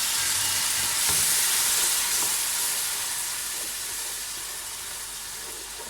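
Beef with green chillies, stock cubes and turmeric fries in a pot as a splash of meat stock goes in. A loud, steady hiss fills the clip and eases off slightly toward the end.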